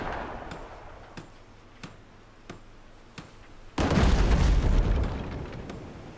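Ship cannons firing in the naval combat game Abandon Ship: a row of sharp, evenly spaced booms, then a loud, heavy blast with a long rumbling tail, no voices.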